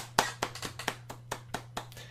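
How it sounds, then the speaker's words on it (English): One person claps about ten times in a steady, moderately quick rhythm, giving himself a round of applause; the claps are close, crisp and alone over a faint low hum. "I give myself a round of applause"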